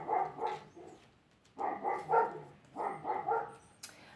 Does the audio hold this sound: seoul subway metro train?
no